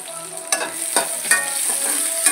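Onions and mint frying with garam masala in a pan give a steady close sizzle. Four or five scraping spoon strokes break through it at regular intervals.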